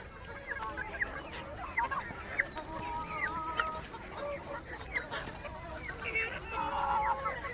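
On a high-tech free-range country-breed poultry farm in the morning, many chickens cluck and call at once, an overlapping chorus over a steady background murmur.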